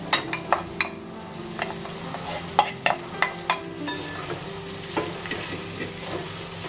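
Sabudana being stirred into cooked potatoes in a pan, with a soft continuous sizzle and a series of scraping spatula strokes against the pan, close and clear with no talk.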